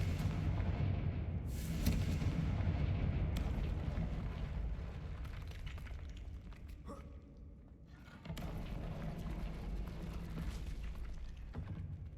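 Deep booming blasts from the Confringo explosion spell in a video game, rumbling heavily in the low end with a sharp burst near the start and another strong boom later, sustained roars between.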